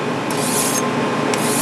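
A single-bevel knife rubs back and forth on a whetstone, a close, steady gritty scraping with a few brighter strokes.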